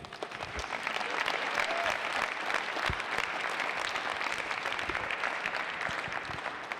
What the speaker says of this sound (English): I'd like a big round of applause for Mr. Golden Voice here, Bert.